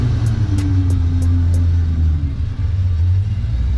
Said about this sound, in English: So here's the AE86 proper drift spec.